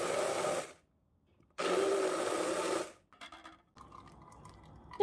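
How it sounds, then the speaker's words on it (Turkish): A kitchen blender whirs through pomegranate seeds in two loud bursts with silent pauses between them, followed by softer clattering and handling noises. "Blender'dan geçiriyorum."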